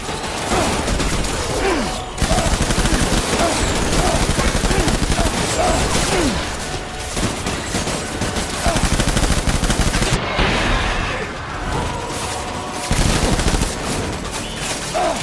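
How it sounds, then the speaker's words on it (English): Dense video game gunfire, sustained bursts and fusillades of automatic weapons roaring almost continuously at close range with brief dips in intensity. "Open fire!"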